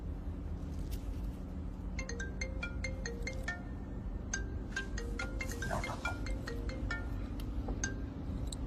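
A phone ringtone in a Hindi film scene, a series of bright, chiming electronic tones repeating over a steady background bed, with no speech.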